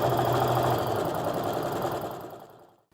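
A sewing machine runs a quilt seam in one quick, continuous whirring burst. Its needle stitches at a rapid, even rate close by, then the motor winds down and stops.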